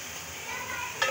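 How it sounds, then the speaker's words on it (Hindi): Beef meat sizzles as it is fried and stirred over a high flame for kabuli pulao, a steady close frying hiss ending in a brief scrape of stirring. "अभी हम गोश्त को अच्छे तरीके से भून रहे हैं और आग हमने इसकी तेज़ रखनी है।"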